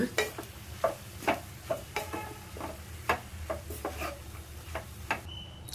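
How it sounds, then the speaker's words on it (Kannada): Garlic rice is stirred in a pan: a quiet, soft sizzle punctuated by frequent rhythmic clicks and scrapes of a spoon against the pan. "ಈಗ ಚೆನ್ನಾಗೆ ಮಿಕ್ಸ್ ಮಾಡ್ಕೊಳ್ಳೋಣ"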